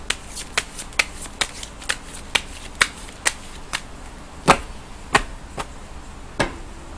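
Tarot cards being shuffled and flicked, a series of sharp, crisp card snaps at irregular intervals, close and fairly quiet over a soft background hum, with no talking.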